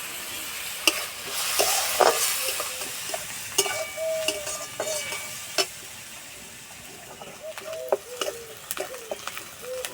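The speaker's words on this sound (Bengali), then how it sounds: "পেঁয়াজ ভাজা হয়ে গেছে" Finely chopped onions frying in a pan, with a steady sizzle broken by repeated sharp clacks and scrapes of a spatula stirring against the pan, close and clear with no talking.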